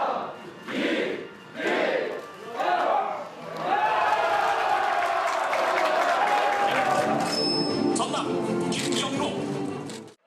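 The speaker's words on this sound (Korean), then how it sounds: "출구조사 결과에 여야 상황실에서 환호와 탄식이 교차했습니다" Cheering and applause swell in a party situation room as exit poll results arrive on South Korean local election night, 2022. A loud, sustained crowd roar follows some opening talk.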